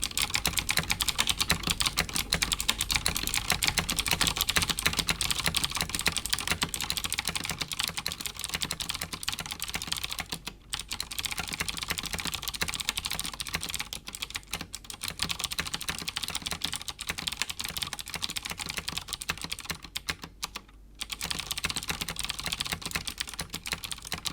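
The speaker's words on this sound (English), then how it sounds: "These are the Cherry MX Blue switches, so they're loud and clicky." Steady, fast typing on a Cooler Master MasterKeys Pro keyboard with loud, clicky Cherry MX Blue switches, a dense continuous patter of close key clicks with a few brief pauses.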